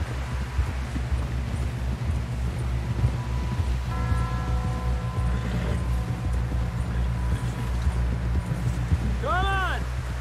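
Horse hooves clip-clop steadily under an approaching rider in the video game Red Dead Redemption 2, with speech and a low music or ambient bed running throughout.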